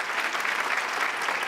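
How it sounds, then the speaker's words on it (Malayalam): A studio audience on a Malayalam TV game show claps together in a brief, even burst, dense hand-clapping heard alone and moderately near. "ഒന്ന് ഉഷാറായി കൈയടി."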